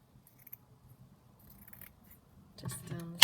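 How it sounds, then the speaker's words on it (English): Scissors cut through a fabric seam during junk journal crafting, a quiet rustle building to a couple of sharp, close snips at the end. "So what I might do, cut this seam off"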